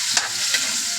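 Meat sautéing in a pan for a mixed vegetable dish, a steady broadband sizzle with two brief stirring scrapes, close and continuous with no talk.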